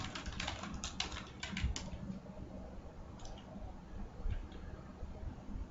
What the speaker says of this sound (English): Then next, I will type product ID.